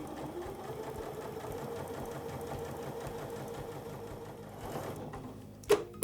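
A sewing machine stitching fabric with the HP foot, a fast even mechanical chatter running steadily close by, with a sharp click near the end.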